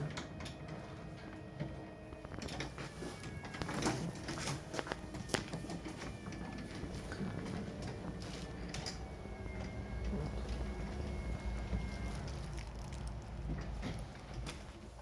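A Steelon SFO 120 gate automation motor runs quietly and smoothly, a soft steady mechanical hum with faint whirring tones and occasional light clicks and rattles, heard at low level from nearby throughout.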